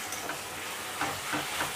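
Ginger garlic paste frying with onions in a pan for a Bihari-style chicken curry, giving a steady close sizzle with soft stirring scrapes at intervals, no voices.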